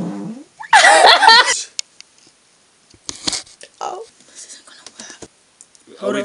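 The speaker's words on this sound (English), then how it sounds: "I need to fart." A single loud, close fart erupts as a raspy burst lasting under a second, followed by quiet stretches and brief whispered talk.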